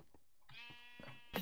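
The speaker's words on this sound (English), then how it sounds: "I did spawn the sheep" Sheep bleating in the video game Minecraft, a single wavering bleat with a clear tonal quaver, fairly close, followed by a brief sharp noise at the end; no talking.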